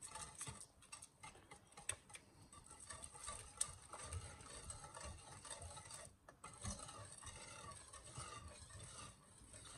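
A whisk clicks and taps against a bowl while lemon juice is beaten into a homemade lemon butter mixture, with quiet, irregular stirring ticks and scrapes close by.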